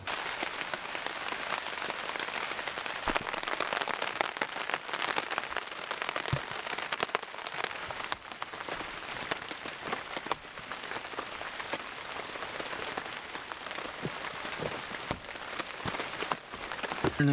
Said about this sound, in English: The rain looks like it's settling in for an all-day job.